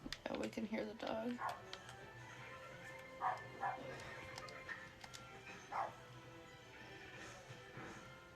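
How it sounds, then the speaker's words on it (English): A dog barks in the background, with a few faint, far-off yips and barks spread through the clip beneath ongoing talk and game sounds. "Oh, you can hear the dog."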